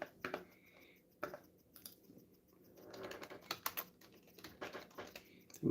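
Clicks from a new computer keyboard being typed on up close, arriving in irregular bursts with short pauses and no voices.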